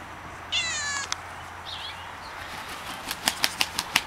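A pet cat meows once in a drawn-out, fairly clear call on a farm where free-range chickens roam, followed by a few sharp clicks and taps near the end.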